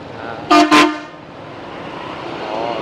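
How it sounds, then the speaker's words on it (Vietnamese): Two quick car horn honks ring out close by on a busy afternoon street in Saigon, followed by a steady wash of traffic noise. "Xe cộ đông ghê chưa."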